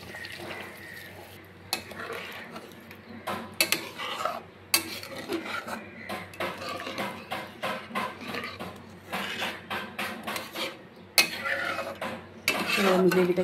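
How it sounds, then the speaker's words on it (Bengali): Lightly warmed milk poured into fried spice paste for egg korma, then stirred: a soft pour and sizzle followed by repeated clinks and scrapes of a utensil against the pan, fairly close and moderately loud. "এবার আমি এর মধ্যে দিয়ে দিব হালকা গরম করে রাখা দুধ"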